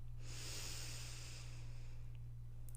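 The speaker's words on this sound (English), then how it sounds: "Take a long, slow, deep inhale" A slow, deep inhale drawn in close and steady, a soft airy hiss that holds for about two seconds over a low constant hum, with no talking.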